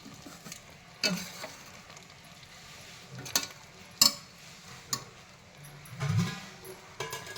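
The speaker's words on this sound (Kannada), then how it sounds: "ಬದನೆಕಾಯಿ ಇದರಲ್ಲೇ ಬೆಂದೋಗ್ಬಿಟ್ಟಿದೆ ಎಣ್ಣೆಯಲ್ಲಿ" Brinjal cooks in oil in a pan with a soft sizzle underneath, broken by several sharp stirring scrapes and clinks of a utensil against the pan, fairly quiet and close.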